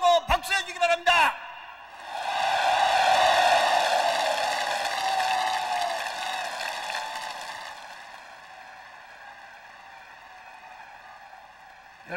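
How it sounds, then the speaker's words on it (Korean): Crowd at a 1997 Korean political party delegates' convention, where Kim Dae-jung accepts the presidential nomination, roars and applauds in a sustained, echoing swell that rises, holds, then gradually fades, after brief speech at the start. "크게 한번 옳소하고 박수해 주기 바랍니다"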